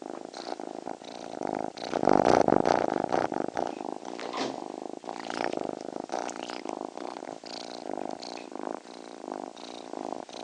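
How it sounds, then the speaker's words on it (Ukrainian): A cat purrs steadily and close up, a continuous low rumbling throb that swells slightly in the first few seconds, with no talking over it. "Їхнє муркотіння сприяє підвищенню захисних сил організму, прискорює процес загоювання ран та зростання переломів."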